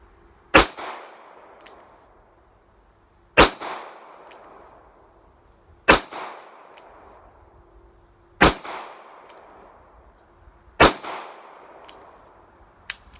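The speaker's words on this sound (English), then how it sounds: "I'll put 10 more rounds through this for now, and I'll use single action so I can try to be a little bit better here." Five sharp revolver shots fired single action at a target about 20 feet away, each a loud crack spaced roughly two and a half seconds apart with a short ringing decay, no talk between them.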